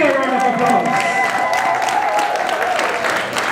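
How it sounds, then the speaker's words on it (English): A graduation crowd at a Central Jamaica hospitality training programme keeps up sustained, dense clapping throughout, with a voice heard over the applause. "Give them a bigger round of applause."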